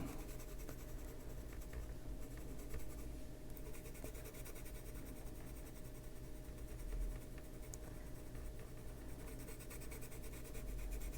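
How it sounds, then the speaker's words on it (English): Colored pencil shading on paper, worked lightly with the side of the lead while the pencil is held far back, giving a soft continuous scratchy rasp that runs steadily throughout at a quiet level. "It just is easier for me to get a very, very light coat in if I'm just using the side of the lead and holding the pencil way back."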